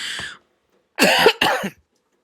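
A short cough, then a pause and two harsh coughing bursts close to the mic, with near silence between them.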